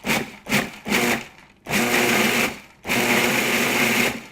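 Food processor pulsing sliced almonds for chocolate cookies, a few short whirring bursts followed by two longer grinding runs, loud and close with brief gaps between, no talking.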